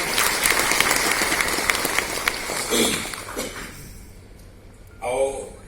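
Applause at a community nutrition programme event in Kalahandi, Odisha, honouring Naveen Patnaik; clapping fades out over a few seconds, then a brief burst of speech follows.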